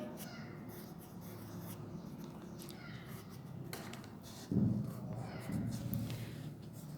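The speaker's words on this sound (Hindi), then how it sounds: "इसे भी हम यहाँ पे खुशखत करके लिख लेंगे" Handwriting on a board during a class, a soft continuous scratching and rubbing of the writing tool that grows louder toward the end, with a voice faintly present at times.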